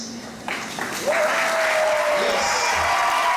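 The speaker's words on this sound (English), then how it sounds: "Give all these folks a round of applause." An audience applauds veterans, soldiers, firemen and policemen standing at a concert; the applause swells from scattered claps into a dense, sustained round, with a rising whistle cutting through near the start.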